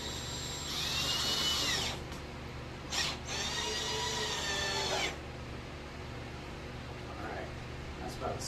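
A power drill drives screws while a car battery and light are mounted. There is one long whirring burst, then a short blip and a second long run, each ending abruptly, with a quieter stretch afterward.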